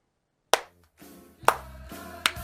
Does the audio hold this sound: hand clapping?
yes